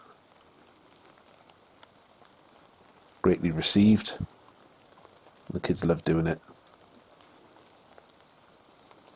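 Soft, steady patter of light rain outdoors in the background, with a person speaking in two short bursts over it.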